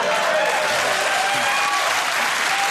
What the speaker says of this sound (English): A round of applause for the duration of your waffle.